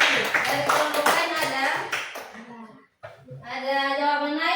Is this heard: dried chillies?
no